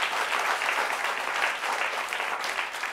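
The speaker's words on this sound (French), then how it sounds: "On l'applaudit pendant qu'il arrive." An audience claps steadily as a man from the back of a television studio crowd walks up to speak, dense continuous applause at an even level for the whole stretch.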